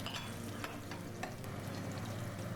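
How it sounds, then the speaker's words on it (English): Eggplant slices frying in a pan, cooked for a chicken kebab and mushroom casserole. A steady, faint, crackling sizzle runs throughout with a few sharper pops. "My eggplants, the second part already fried too."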